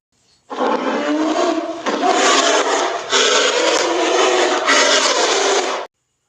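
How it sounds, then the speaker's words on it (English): A polar bear gives deep, rasping roars, four long loud bursts following one another closely with barely any break, then silence. "Let's listen to the sound of a polar bear."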